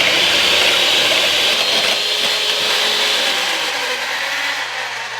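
Electric hand beaters whip egg whites at high speed in a clean bowl, giving a loud, steady whirring roar that holds on throughout and eases slightly toward the end.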